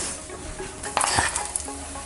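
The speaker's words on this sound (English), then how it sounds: "Put some olive oil in here to fry the onions and the garlic." Chopped onions dropped into hot olive oil in a pan start to sizzle, with a soft crackling hiss rising and a few clinks and pops from stirring, close and moderately loud.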